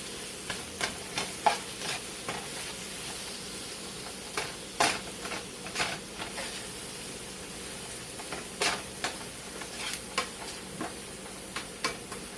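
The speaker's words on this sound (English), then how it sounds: "I'm going to cook it till it's wilted." Spinach wilts in a pan with a soft, constant sizzle, broken by repeated short scraping stirs at an uneven rhythm close by.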